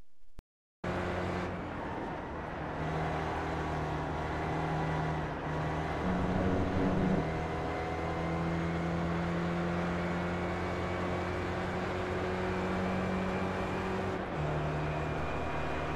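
Spec Racer Ford race car engine in iRacing at Watkins Glen, a steady sustained drone running down the straight with a brief shift change midway, no voices.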